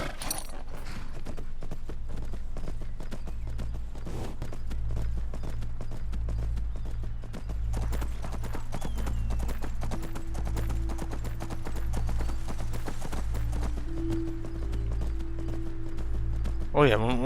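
An undead horse gallops in the video game Skyrim, its rhythmic hoof beats pounding steadily and close for the whole stretch over a continuous low backdrop.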